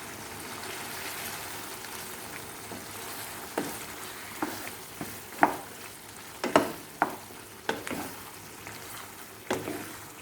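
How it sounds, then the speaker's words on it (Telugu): Chicken frying in an open pan with freshly added masala paste, a soft continuous sizzle punctuated by several crisp scraping and stirring clicks from a spoon. "ఇలా చికెన్ బాగా వేగుతుండగానే ముందుగా చేసి పెట్టుకున్న మసాలా పేస్ట్ వేసేసుకుందాం."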